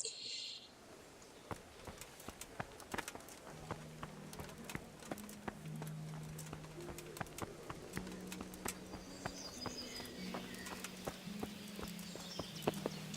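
Horse hooves clip-clop in steady walking rhythm within the medieval game Kingdom Come: Deliverance, moderately close, with a low musical drone and someone talking over them.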